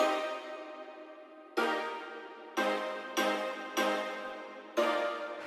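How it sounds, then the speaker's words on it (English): Plucked pizzicato synth chords in an EDM arrangement, six bright stabs in a syncopated rhythm, each decaying quickly, clean and alone. "Use pizzicato chords to emphasize the rhythm."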